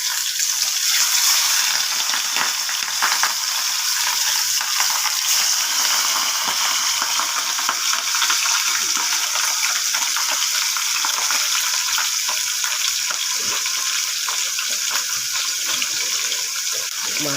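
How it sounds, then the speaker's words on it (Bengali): Fish frying in hot oil in a pan for a Bengali fish curry, a continuous loud crackling sizzle heard close up, steady throughout with small bursts of spitting. "এবার মাছটা ভাজা হচ্ছে আস্তে আস্তে।"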